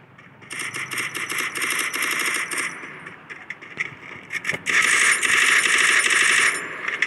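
Rapid automatic weapon fire in the mobile game Free Fire Max comes in two long, dense bursts of fast, even rattling shots. A short gap with scattered sounds separates them, and the second burst is louder.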